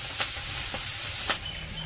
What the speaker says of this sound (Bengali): এখন ওই যে তেলে আবার পেঁয়াজ কাঁচামরিচ দিয়ে দিল